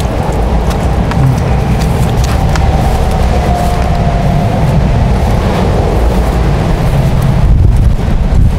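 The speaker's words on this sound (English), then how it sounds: "Wow, now you get the wind here." Wind buffets hard against the microphone while a car drives on the German autobahn. Loud continuous low roar and rumble of road and engine throughout, with no talking.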